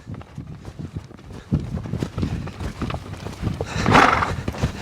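Hooves of a ridden mustang mare clip-clop in a steady rhythm on the ground, close and moderately loud, with a brief whinny-like swell near the end.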